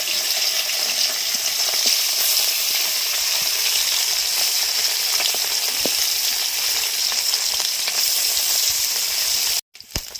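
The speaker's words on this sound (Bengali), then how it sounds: "বাকি মাছগুলো ভেজে নেবো তুলে নিচ্ছি" Small fish such as khalisha and tangra fry in oil with a constant, busy sizzle and occasional pops. It stops abruptly near the end, then gives a brief final crackle.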